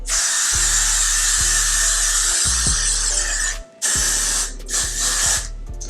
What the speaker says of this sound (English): I'm going to spray my first layer on my head.